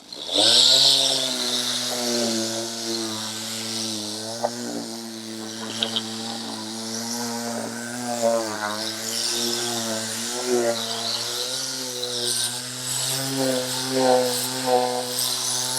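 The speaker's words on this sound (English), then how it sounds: "we're going to start sanding this part of the threshold over here" A square power sander runs steadily up close on a wooden door threshold, stripping old stain, its loud droning motor whine rising and dipping slightly in pitch as it works across the surface.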